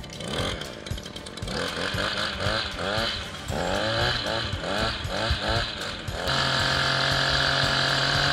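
A gas-powered string trimmer starts and runs close by, its two-stroke engine revving up and down in repeated surges before settling into a steady high-pitched whine.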